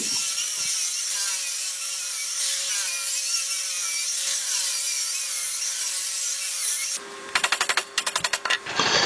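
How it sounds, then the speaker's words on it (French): Circular saw cutting a row of notches into timber for a wooden shelter, a long steady whining cut followed by a quick series of short separate bursts as each notch is sawn, close and loud. "Et je vais effectuer comme ça une série de découpes pour réaliser mes entailles."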